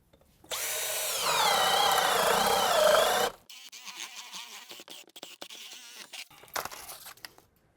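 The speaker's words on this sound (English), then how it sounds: "So I'm going to drill through my top plate." A power drill whirs loudly for a few seconds, bores through a wooden top plate in an old home's wall with a rising strain, then stops, followed by scraping and handling noises.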